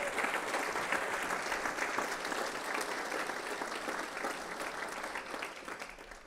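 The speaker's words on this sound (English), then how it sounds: "Please give them all a big round of applause." An audience at a city's State of the City address in Santa Ana breaks into sustained, even applause, a dense crowd of clapping hands holding steady throughout.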